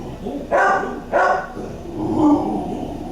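A dog gives two short, close barks about half a second apart, followed by a softer, drawn-out whining sound.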